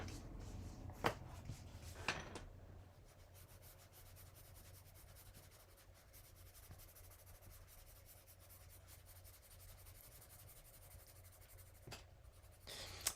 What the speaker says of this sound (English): black colored pencil, by the way. We're gonna darken in the perimeter kind of a little bit